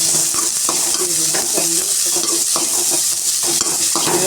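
Shallots stirred and frying in a pan for mutton chukka: a loud, continuous sizzle with repeated scraping strokes of a spoon against the pan, close up and without talk.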